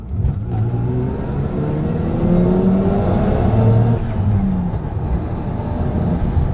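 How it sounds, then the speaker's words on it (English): A Mazda FD RX7 Type RS, a lighter version with upgraded brakes and suspension, accelerates hard as its engine note climbs through rising gears, loud and close from inside the car with no talk over it. "And let's start with acceleration."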